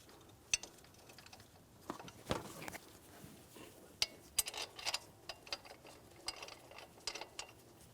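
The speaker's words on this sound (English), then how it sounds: "We're starting in each of our 2 mounting bolts." Tensioner mounting bolts being threaded in by hand on a 2007-2014 GMC Sierra 2500 HD 6.0L, faint close metallic ticks and light ratchet-like clicks in irregular bursts against a quiet background.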